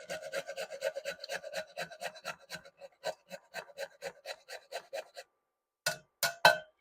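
Whole nutmeg scraped against a grater, a rapid steady run of dry rasping strokes close by, pausing briefly before a few final harder scrapes; no talking.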